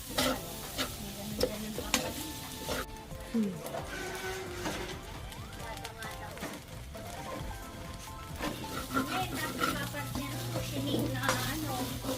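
Thai fried rice is stir-fried in a pan with busy, uneven scraping and tossing clatter over a low sizzle, while people chat nearby.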